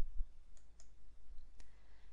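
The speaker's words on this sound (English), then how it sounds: "right mouse click" Computer mouse clicking during dental cone-beam imaging software use, three or four faint, crisp clicks spaced across a quiet desk background, with no talking.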